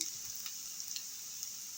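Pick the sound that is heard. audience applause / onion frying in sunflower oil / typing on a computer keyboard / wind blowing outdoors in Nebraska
onion frying in sunflower oil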